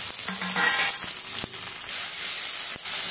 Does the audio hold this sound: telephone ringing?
no